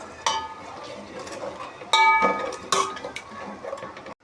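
Tamarind juice poured into a pan of frying tomato and green chilli masala, with several sharp metallic clinks of a utensil against the pan amid soft sizzling, close and loud.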